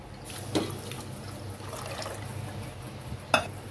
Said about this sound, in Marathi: आता याच्यात पाणी टाकून घ्यायचं.